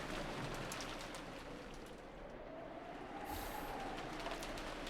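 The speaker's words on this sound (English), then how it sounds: "it was very quiet, filled only with the sound of the rain" Rain falls steadily as a sound effect in the Umineko When They Cry visual novel. The hiss is dense and even, with a soft low rumble underneath and no voices.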